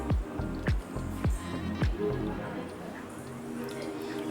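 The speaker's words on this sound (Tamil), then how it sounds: "அதை நம்ம கொஞ்சம் கொஞ்சமாக ஊற்றி மிக்ஸ் பண்ணிக்கலாம்" Wet squishing and sloshing as water is stirred into flour, forming a thick mixture, with soft rhythmic squelches early on, then quieter mixing under faint background noise.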